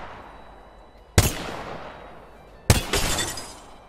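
G7 Scout rifle in Apex Legends fired from the hip at close range: two sharp, loud gunshots about a second and a half apart, each with a crackling tail over a quiet background.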